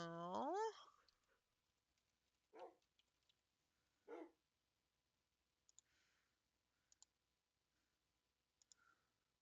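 A Shiba puppy in a Minecraft All the Mods 9 modpack gives a rising whiny yelp, then two short, fairly faint barks, with sparse clicking scattered through otherwise quiet surroundings.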